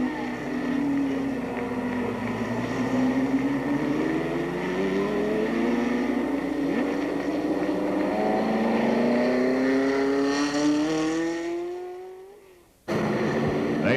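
Stock cars race around a short oval track in an eight-lap event, engines roaring loud and steady as the pack sweeps past, pitch climbing and then fading away before a sudden cut.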